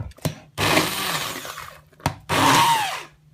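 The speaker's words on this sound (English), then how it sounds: "Let's see if we can do some blending one-handed." A hand blender whirs loudly in two bursts of about a second each through hot sweetcorn chowder, separated by short clicks and pauses, its pitch rising as it churns.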